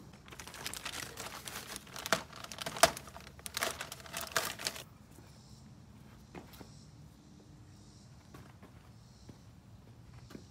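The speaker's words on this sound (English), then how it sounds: "we can further improve this setup by attaching a plastic bag here" Plastic bag being handled and fitted over the hood of a DeWALT table saw in a workshop: several seconds of loud crinkling and rustling, then quieter, sparse rustles and light taps.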